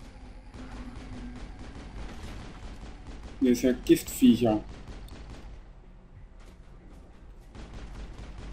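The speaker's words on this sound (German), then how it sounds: "Ja, es explodiert alles." Explosions and gunfire in the sci-fi shooter Mass Effect, a short burst of several loud booming blasts in the middle over quiet game ambience, with someone talking before and after.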